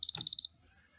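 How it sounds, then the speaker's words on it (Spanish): A DSC alarm keypad gives a quick double beep confirming an entered code, two pairs of short sharp tones close up in a quiet room, ending within half a second. "cada vez que me da ese doble bip significa que es correcto"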